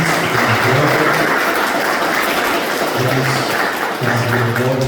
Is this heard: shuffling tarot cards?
no